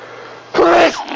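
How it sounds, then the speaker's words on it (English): A single strong human sneeze bursts out after a quiet moment, loud and close, followed by a brief trailing breathy sound. "Strong ass sneeze."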